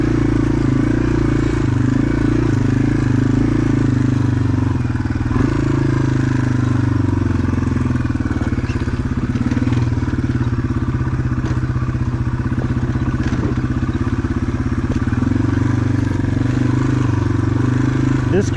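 A Yamaha TW200 motorcycle rides over very rocky terrain, its engine putting along with a steady low chugging and clattering throughout, while a rider talks over the engine noise.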